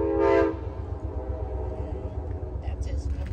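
A train heard at a distance, opening with a brief horn blast and followed by a steady low rumble of passing railcars.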